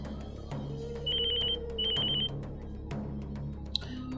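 A telephone rings with an incoming call, giving two short bursts of electronic ringing against a quiet indoor background, with a soft click near the end.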